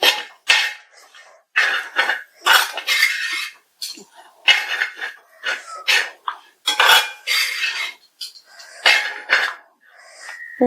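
A spoon stirring crushed, salted jackfruit in a metal pot, with repeated close scraping and clanking strokes in irregular bursts separated by short pauses.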